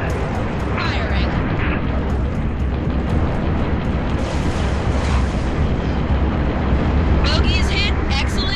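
Defensive battery cannon firing in Halo Reach, heavy booming blasts inside a dense, loud continuous roar of battle, with radio voices speaking over it.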